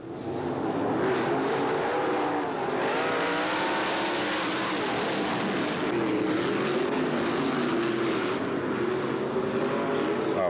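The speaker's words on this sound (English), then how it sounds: "Close racing at Limaland Speedway." Race cars roaring through a heat race at Limaland Speedway in 1991, a dense, continuous engine drone with shifting pitch as several cars run close together, loud and steady with no talk.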